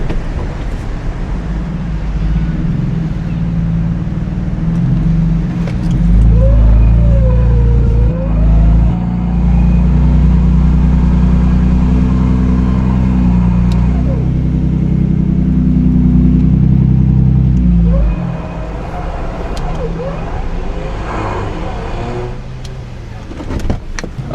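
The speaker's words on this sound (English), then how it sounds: "put it in reverse, and just give me a little bit of gas and we'll just try and creep it back into this ravine" An off-road vehicle reversing slowly into a ravine, its engine droning loud and close with a swell of revving in the middle, then dropping back. Faint voices can be heard at moments.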